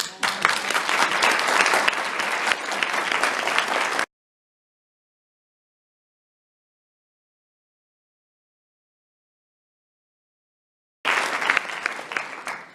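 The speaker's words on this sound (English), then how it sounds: "Please give yourselves a round of applause." An audience at a conference speech claps loudly for about four seconds, then everything drops to complete silence before the dense applause resumes for the final stretch.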